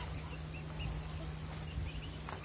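Chickens at a poultry farm clucking softly in the distance, scattered short calls over a steady low hum, faint and continuous with no talk.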